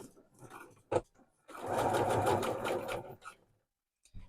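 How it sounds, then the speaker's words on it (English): A sewing machine joins fabric pieces along a line of existing stitching, giving a short brisk run of about a second and a half, bracketed by a few clicks and handling sounds. "let's take that to the machine now, and we're going to stitch them together along this line of stitching"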